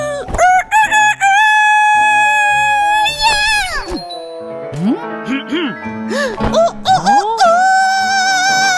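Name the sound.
rooster crowing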